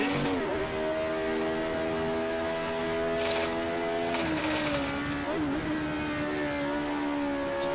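A McLaren M23 race car engine in Assetto Corsa howls steadily close by, its revs dipping and shifting as the car works through corners, with a continuous tonal engine whine and no voices.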